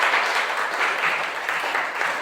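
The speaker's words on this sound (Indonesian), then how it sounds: "silakan berikan tepuk tangan." A classroom of students applauds steadily after a group presentation, a dense, even wash of clapping that holds at a constant level from start to finish.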